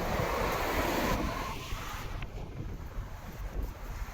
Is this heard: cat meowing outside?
no